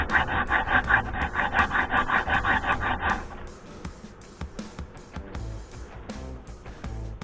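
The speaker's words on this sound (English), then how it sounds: "file this down there instead of putting it with the grinder" Rhythmic rasping strokes of a hand file on metal, a quick regular back-and-forth for a few seconds, then softer scraping and clinks, while repairing a Takeuchi TL12V2 track loader.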